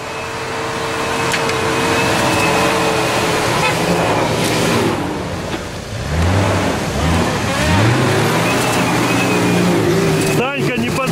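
A Nissan Patrol's turbocharged engine revs and climbs in pitch, loud and close, with voices talking over it throughout.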